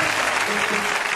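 A church congregation applauding during a sermon, a dense, steady wash of clapping heard up close and filling the whole short moment.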